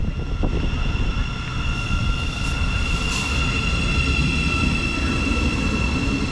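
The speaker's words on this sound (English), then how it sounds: "here we are now with the 1500 Thameslink service to Peterborough, on to 700 101" Thameslink Class 700 unit 700 101, working the 1500 service to Peterborough, stands at a station, giving off a loud, steady electric hum and whine with faint tonal lines and no talk.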